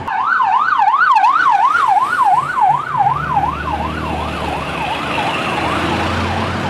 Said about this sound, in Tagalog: may ambulansya pa sa likod